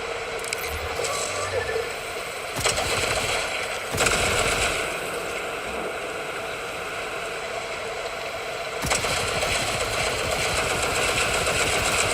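Rapid automatic gunfire bursts in Borderlands 4, dense and noisy, with a couple of sharper louder volleys punctuating steady shooting, a player talking over it.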